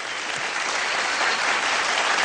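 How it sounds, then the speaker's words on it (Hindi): Loud, dense audience applause fills an awards show hall, a steady even wash of clapping from a large crowd with no voices over it. "मैं चाहता हूँ कि जगजीत जी के लिए जोरदार तालियां हो जाएं एक बार"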